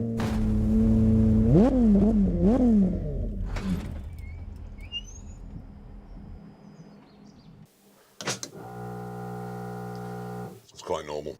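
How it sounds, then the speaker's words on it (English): Aston Martin Vulcan with a 7-litre V12 fires up loudly, its engine note climbing and revving in sharp swoops before settling to a lower rumble, then fading to quiet before a brief later burst of sound. "And now it's time to fire up the 7-litre"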